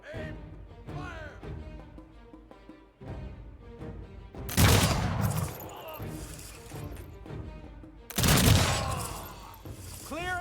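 Musket-style infantry volleys in the strategy game Humankind: two loud, sharp bursts of massed gunfire crackle out amid orchestral game music, with voiced commands around them.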